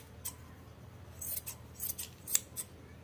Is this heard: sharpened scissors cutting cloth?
yes